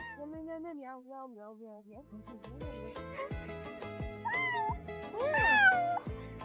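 Human voices imitate a cat's meow, sliding drawn-out mews given several times, with music playing underneath and the later mews rising louder and higher.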